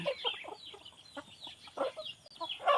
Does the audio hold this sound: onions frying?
no